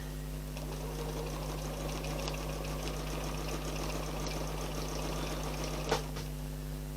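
A sewing machine stitching in the ditch on a quilted table runner with a ruler, a steady close mechanical whir and hum running throughout with one small click near the end.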